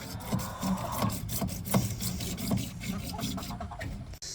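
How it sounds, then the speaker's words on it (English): PVC pipe being sawn by hand to fit a T for a pig waterline on a small family farm, a steady rasping back-and-forth stroke with a few sharper knocks, close and moderately loud. "I'm going to cut the PVC to put the T in to then make our line come off of there."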